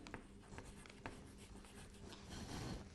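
Numerals being written on a board, faint scratchy strokes and taps repeating in a loose rhythm, quiet and close, with no talking.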